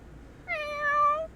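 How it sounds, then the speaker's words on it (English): A cat meows once in The Sims video game, a single clear drawn-out game meow, near and alone over a quiet background. "We're going to add a cat."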